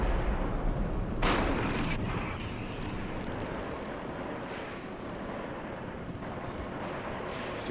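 Tank cannons fire in a wargame video game, booming blasts over a constant roaring battle background, one strong shot standing out early and fainter thuds following.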